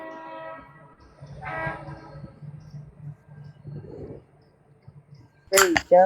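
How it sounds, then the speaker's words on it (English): A drawn-out whistle with harmonic tones sounds faintly in the distance beneath a low hum, then a loud, sharp burst near the end. "who's got a train whistle playing in the background?"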